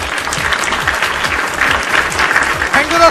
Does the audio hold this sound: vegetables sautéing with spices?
no